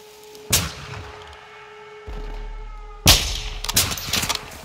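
A Call of Duty Modern Warfare 2 firefight with a few sharp, loud gunshots: one early crack, then a cluster of rapid shots near the end, separated by a low ambient hum and rumble.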